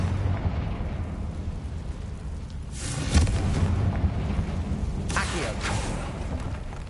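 Confringo explosion spell cast in the video game Hogwarts Legacy: two booming bursts land a couple of seconds apart over a constant rumbling game background.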